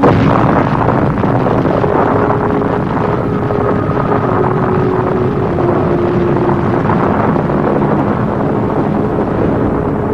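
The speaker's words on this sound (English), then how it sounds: "Oppenheimer, father of the atomic bomb, watched his creation explode over the New Mexico desert" An atomic bomb explodes over the New Mexico desert with a loud, sustained, deep roaring rumble that fills the whole stretch, with no break and no voices.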